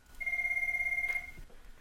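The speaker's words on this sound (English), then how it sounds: "You could probably hear that ringing in the background." A Cisco 7940 IP phone at extension 2000 rings for an incoming voice-over-IP call, one short electronic ring burst lasting about a second, faint and somewhat distant in a quiet room.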